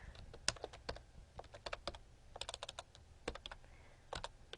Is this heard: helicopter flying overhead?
no